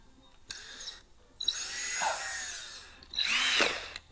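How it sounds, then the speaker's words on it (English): A power drill whirs in short bursts while drilling through a basket, winding up and down with a rising and falling pitch, close by, with brief pauses between runs. "we're going to drill through a bottom one"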